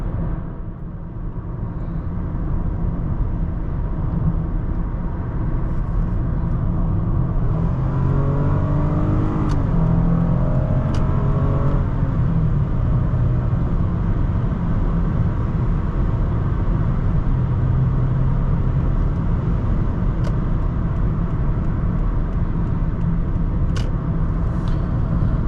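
A 2010 Lexus ES350 on the road gives a steady, muffled blend of engine hum and tire and road noise from inside the cabin, continuous throughout with a brief rise partway through.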